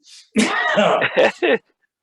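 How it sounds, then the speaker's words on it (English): A single throat clearing up close, a harsh rasping rumble in several short bursts, with a brief faint breath just before. "Let me clear my throat."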